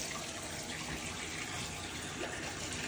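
Water pours steadily from a tap into a measuring cup for pumpkin frybread dough, a constant splashing gush with no talking.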